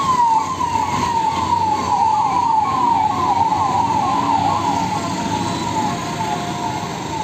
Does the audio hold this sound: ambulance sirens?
yes